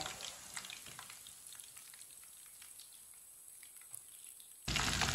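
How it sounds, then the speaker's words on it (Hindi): Kebabs frying on a stove over medium-low heat give a quiet, continuous sizzle with light crackles, then a sudden louder burst of hiss at the very end. "अब ये वाली साइड से भी 2 मिनट के लिए पकने देते हैं।"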